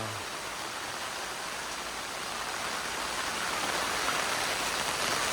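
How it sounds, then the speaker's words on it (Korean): Dense steady rainfall patters on a tent shelter nearby, a continuous hiss of drops with no voices. "오, 야 빗소리 끝내줘 형. 빗소리 끝내줘."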